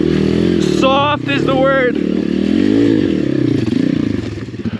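A Chinese dirt bike rides hard enduro trail, its engine loud and close with revving and scraping clatter throughout, while someone talks and laughs over it.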